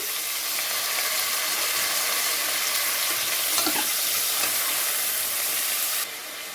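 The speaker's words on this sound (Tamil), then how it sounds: "கொஞ்சம் புதினாங்க, தக்காளி போட்டுறேங்க." Mint and tomatoes frying in a pan for tomato rice, a steady loud sizzle with faint stirring scrapes, constant throughout before dropping slightly at the end.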